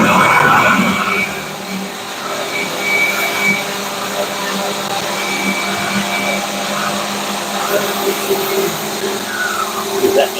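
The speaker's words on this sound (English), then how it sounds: "And then the vacuum hook right here, just turn it on, because that's going to create the most amount of dust." A dust collection vacuum runs in a woodworking shop, giving a steady, loud roaring whine that holds for the full stretch, with faint workshop clatter mixed underneath.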